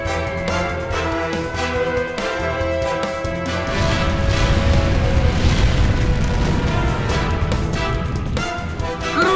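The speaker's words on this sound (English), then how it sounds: "you should see the explosion just a few seconds after they pass over the target area" Bombs dropped by a Soviet OPB-1 level bomber detonate on target in a flight-simulation setting, a deep rolling boom swelling in after a few seconds and rumbling on heavily to the end.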